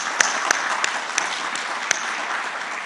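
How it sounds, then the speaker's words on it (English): A round of applause from forum participants at a meeting with President Ilham Aliyev in Shusha. Dense, even clapping fills the room, with a few sharper individual claps standing out. "I think that deserves a round of applause."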